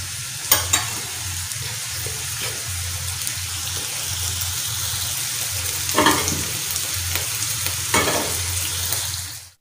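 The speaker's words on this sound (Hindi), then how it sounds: "कीमा अच्छी तरह फ्राई हो गया और पूरी तरह कुक हो गया।" Minced meat keema frying on a tawa with a steady, close sizzle, broken by a few sharp scraping stirs of a spatula; no talking.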